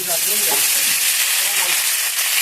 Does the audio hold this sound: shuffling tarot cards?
no